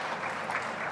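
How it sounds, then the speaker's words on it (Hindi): An audience at a flyover inauguration in Jabalpur claps in a dense, steady burst of applause, sustained and fairly loud throughout. "तो अटल जी के लिए भी जोरदार तालियां"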